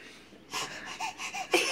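Raspy, wheezy breathing from a young girl in a rapid series of short huffs and snorts, close and moderately loud, with no talk over it.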